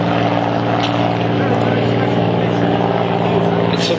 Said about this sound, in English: the Spitfire and the Hurricane from the Battle of Britain are likely the only single engine aircraft to fly above London today